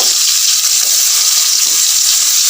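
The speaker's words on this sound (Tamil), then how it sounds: "ரெண்டு தக்காளி ரெண்டு நம்பர் பச்சை மிளகாய் போட்டு நல்லா வந்து நம்ம வந்து ஃப்ரை பண்ணிக்கலாம்" Onion, tomato and green chillies frying in hot oil for a chicken curry, a loud continuous hissing sizzle with no talk.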